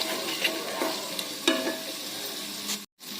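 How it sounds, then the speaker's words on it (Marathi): Chopped onion and tomato masala sautéing in oil in a pan, with soft sizzling and intermittent stirring scrapes, fairly quiet and close, no talk. "मसाल्याला छानसं तेल सुटूपर्यंत आपण आता हे परतून घ्यायचंय"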